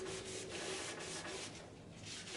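Wood glue being wiped off a guitar body blank, a close, continuous rubbing and scraping with rhythmic strokes, soft but clear, no speech.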